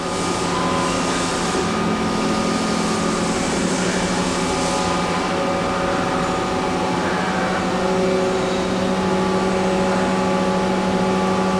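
A Mazak 5-axis machining center runs with a steady, dense mechanical hum and whine, constant in level throughout, with no talking over it.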